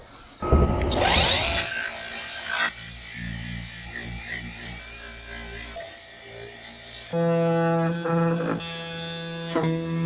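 A power grinder flattening a Coosa board transom during a boat restoration: a loud, close whining and rasping grind with shifting pitch, cutting out briefly and restarting with a harsher, more tonal whine.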